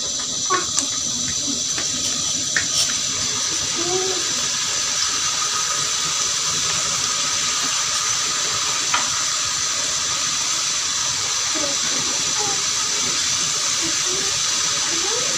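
Water is poured into hot ghee in a wok while making pare, giving a long, steady, loud sizzling hiss with faint scattered pops and bubbling throughout.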